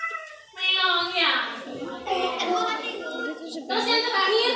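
A person imitates a cat's meow, drawing out a long, whiny vocal mew with a rising and falling pitch, close and clear, in a classroom-style setting.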